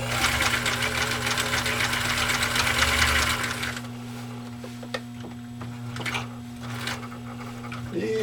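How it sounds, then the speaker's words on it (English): A 1.5 amp Husqvarna Viking sewing machine zigzag stitches vegetable tanned leather in a loud, rapid run that stops after a few seconds, followed by a low hum and faint clicks as the work is turned. "just enjoy the beauty of how this machine sews, and particularly a zigzag stitch on vegetable tan leather like this"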